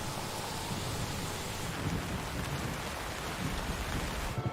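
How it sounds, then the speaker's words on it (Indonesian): Heavy rain pours steadily with a deep rumble of thunder underneath, a dense, continuous wash of sound close by with no voices. "hujan"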